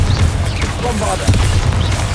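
Bombarda explosion spell going off in the Hogwarts Legacy video game: a loud, booming blast with a sharp onset near the start and another heavy thump partway through, over a dense, rumbling low end.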